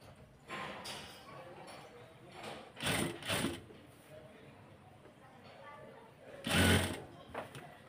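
A sewing machine stitches a round neckline on a top in short, soft bursts of whirring separated by quiet pauses, with one louder run near the end, as someone talks quietly.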